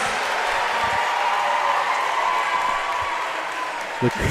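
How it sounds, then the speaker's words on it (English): Home crowd at a high school varsity basketball game roaring steadily with cheers and applause, a dense sustained wash of many voices and clapping filling the gym, with a brief louder bump near the end. "The home crowd is fired up right now."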